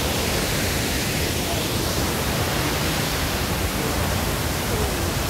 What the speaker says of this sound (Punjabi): ਇੰਨਾ ਖੂਬਸੂਰਤ ਝਰਨੇ ਦਾ ਪਾਣੀ ਵਗ ਰਿਹਾ ਹੈ